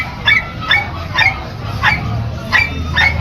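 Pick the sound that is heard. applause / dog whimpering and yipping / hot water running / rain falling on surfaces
dog whimpering and yipping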